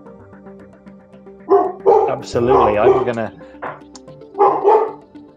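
Several pet dogs bark indoors at a home near South Lake Tahoe, giving a few loud, close barks in bursts between pauses while a person speaks briefly.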